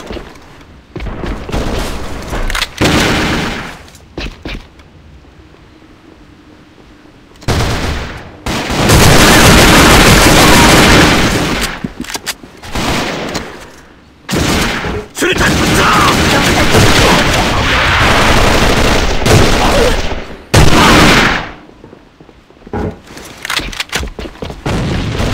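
Grenade blasts and heavy gunfire in the online shooter A.V.A on the Dock map, loud sustained bursts of automatic fire and booms alternating with brief quieter gaps.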